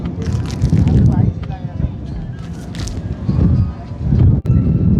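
Strong sea wind roars and buffets across open water during a boat crossing between islands, a loud continuous rumble with gusts that swell and fade, and voices speaking faintly beneath it.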